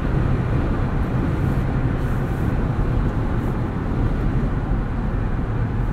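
Steady, loud drone of a 2020 Jeep Wrangler Rubicon with the 3-liter EcoDiesel and 8-speed automatic under way, a continuous low engine and road rumble from inside the cabin with no talk.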